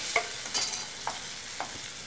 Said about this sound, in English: And we start sauteing and cooking down the tomatoes.